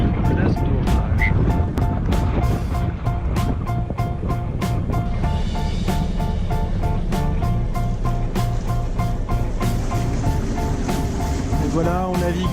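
Sailboat motoring under engine power on the Mediterranean in a light headwind, a steady engine drone under rushing water and wind, with rhythmic clicks or knocks and a voice talking over it.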